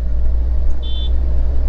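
A Suzuki Jimny All Grip two-door with an aftermarket HKS muffler idles with a steady, loud, low engine rumble and a brief faint whine over it.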